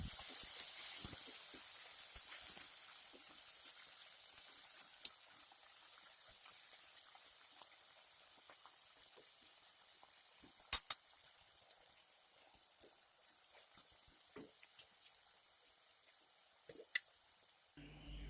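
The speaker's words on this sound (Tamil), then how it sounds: "வெங்காயம் நல்லா மொறுமொறுன்னு வதங்கினதுக்கு அப்புறமா நம்ம எடுத்து அரிஞ்சு வச்சுருக்கிற தக்காளி இது கூட" Chopped onions fried crisp, now joined by sliced tomatoes, sizzle in a pan as a steady, faint hiss with occasional small pops and crackles throughout.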